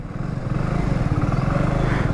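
A loaded Hero Splendor motorcycle on a long-distance road ride hums with a steady, low engine drone and rapid pulsing exhaust throughout, loud and close with no talking.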